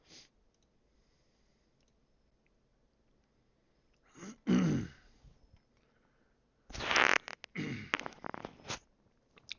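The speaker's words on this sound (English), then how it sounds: "I gotta have like a button that I can mute when I cough or something." A man coughs and clears his throat close to the microphone, with two separate rough bursts. The second and longer burst comes as a run of choppy hacks after a quiet stretch.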